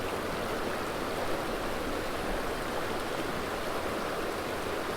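Creek water rushes steadily through a current seam, a continuous close wash of flowing, churning stream noise with no voices.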